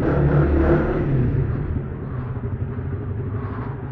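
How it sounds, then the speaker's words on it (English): Motorcycle engine rumbling and echoing inside an underground mine tunnel, a steady loud low drone that eases slightly after the first second, with no talk. "Talk about your tunnel exhaust."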